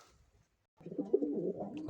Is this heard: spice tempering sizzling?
no